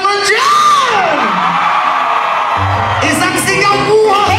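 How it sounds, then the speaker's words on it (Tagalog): A live concert crowd in Toronto, Canada whoops, yells and shouts together loudly, a sustained roar of voices with rising cheers and a low rumble beneath. "Isang hiyawan naman dyan!"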